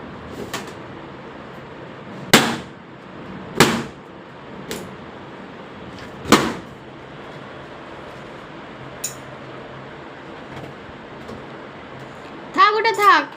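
A small child pops balloons one after another indoors, giving several sharp, separate bangs spaced a second or more apart, with a brief squeaky rubbery rub near the end and quiet room noise between.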